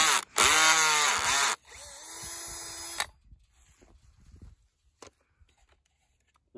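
A power drill bores into a steel fence T-post, whining loudly in two bursts over the first second and a half with rising and falling pitch, then quieter tapping and handling noise follows.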